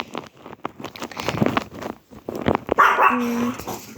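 A dog barks and yips several times in quick bursts, fairly close, followed by a higher whining tone.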